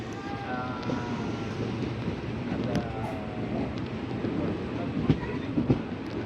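A bi-weekly express train running on rails between Ramanathapuram and Tambaram, a steady rumbling roar heard from onboard with faint rhythmic clacks and a few sharper knocks.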